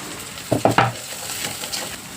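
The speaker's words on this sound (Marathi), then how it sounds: "आता मिरची टाकायची, नंतर कढीपत्ता. चांगला असं परतून घ्यायचं." Green chillies and curry leaves hit hot oil with onions already browned in a pan, giving three quick sizzling bursts in close succession before settling into a faint, steady frying hiss.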